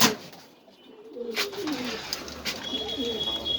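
Pigeons on a breeding farm in Mirpur coo in soft, repeated throaty phrases, close by over a quiet background, with a few brief higher chirps.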